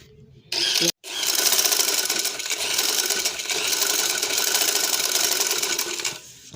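Up close, a sewing machine runs the side seam of an angrakha, starting with a short burst and then sewing in one long steady mechanical clatter for about five seconds before stopping.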